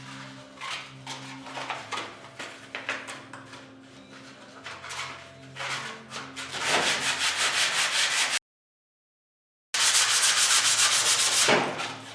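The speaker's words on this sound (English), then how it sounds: "So I'm not sanding this car door down" Close, rhythmic sanding on a vintage modified race car's metal door panel, steady back-and-forth rasping strokes that grow louder and denser, broken by a brief silence.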